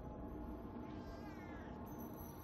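Cat in the horror video game DreadOut gives a drawn-out meow, faint over a steady low game ambience.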